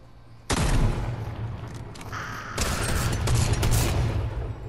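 Gunfire in a Fortnite match, with loud rapid bursts and booming shots that begin suddenly and continue close and dense to the end.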